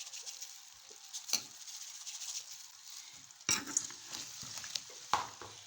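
Spice masala frying in a pan for mixed pickle made with carrots and turnips gives a steady low sizzle, broken by a few sharp stirring scrapes and clinks, close and quiet, with no talking.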